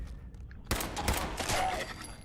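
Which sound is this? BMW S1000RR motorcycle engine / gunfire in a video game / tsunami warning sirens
gunfire in a video game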